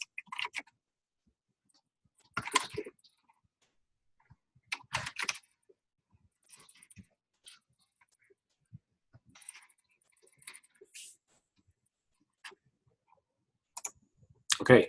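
Computer keyboard typing arrives in short clustered bursts of crisp clicks separated by silent gaps, close and faint, with brief speech mixed in.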